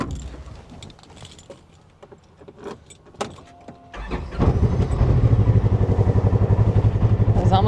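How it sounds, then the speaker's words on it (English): A Polaris RZR side-by-side with a recently dead battery is started outdoors: quiet clicks and rustling, then the engine cranks, catches and settles into a loud, steady, throbbing idle. "Get the RZR going so I can go riding later."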